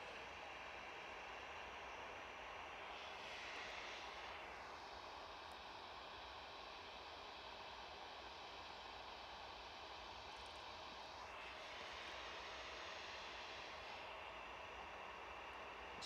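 An EasyJet airliner lands at an airport, its steady jet engine roar filling the scene from a distance and holding throughout, with broad rushing noise and no voices.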